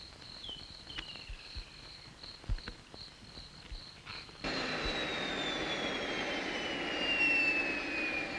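A military helicopter arrives in the bush, first faint and distant among insect chirps, then a loud, steady wash of engine roar with a whining tone cuts in abruptly and holds.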